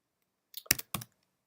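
Keys on a computer keyboard are struck in a quick burst of four or five close, crisp clicks with one distinct keystroke after a short pause, all against near silence.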